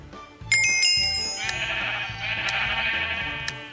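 Sheep bleat in the Minecraft video game, several plaintive bleats over a few seconds with bright bell-like chimes ringing near the start.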